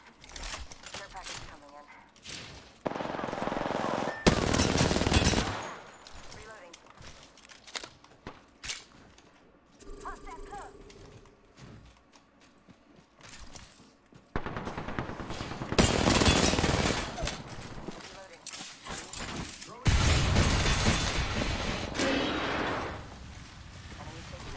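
Gunfire in the Apex Legends battle royale game, arriving in several loud bursts separated by quieter stretches, with players talking in between.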